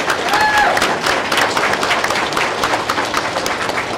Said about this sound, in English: join me in a round of applause